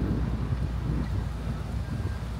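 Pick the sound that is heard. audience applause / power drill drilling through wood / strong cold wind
strong cold wind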